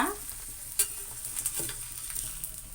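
A parotta fries in a little oil on a hot pan with a soft, steady sizzle, broken by a few close scraping and tapping sounds from a turner, with no voices.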